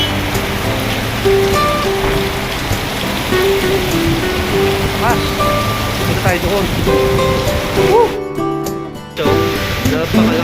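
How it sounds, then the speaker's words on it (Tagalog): Heavy rain pours steadily and loudly in the Middle East, a dense continuous roar, with people talking and exclaiming over it. "sobrang lakas ng ulan"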